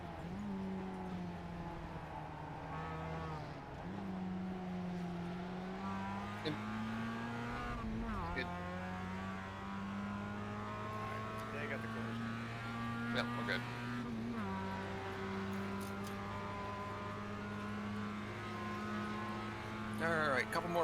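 Porsche race cars in the iRacing Clubsport Series at Mosport roar past in a steady stream, their engine notes rising and dropping as each one goes by. The sound is loud and continuous, with a voice talking over it.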